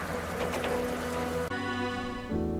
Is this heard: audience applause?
no